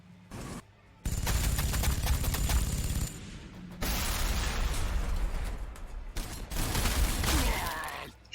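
Dense bursts of gunfire and explosions from orc forces in the Warhammer 40,000: Sanctus Reach game, loud sustained volleys broken by brief pauses, with rapid machine-gun-like rattling and booming blasts.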